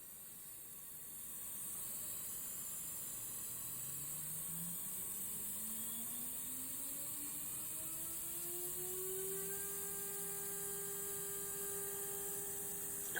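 A CNC router bit spinning up to about 20,000 RPM while cutting wood gives a steady hiss and hum, with a whining tone that rises in pitch and then holds constant, fairly quiet and continuous.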